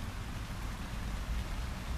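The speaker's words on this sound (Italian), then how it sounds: "Adesso qui sta cominciando a piovere," Rain is falling outdoors as a steady, dense hiss of drops that continues evenly, moderately loud and with no voices.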